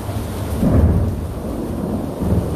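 Thunder rumbles low and steady through an Austin thunderstorm, with a heavier swell near the middle and rain hissing throughout, no voices present.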